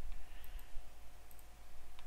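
A computer mouse clicks a few times while Altium circuit design software is used, with sharp, faint, widely spaced clicks over a steady low electrical hum.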